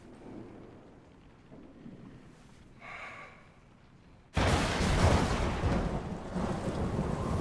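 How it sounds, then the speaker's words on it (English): Thunder rumbles during a thunderstorm in a TV comedy scene, starting quiet and muffled, then a sudden loud crack and sustained roaring rumble that continues to the end. "With thunderstorms in the air, the takeoff is cancelled and Sheldon is left dismayed"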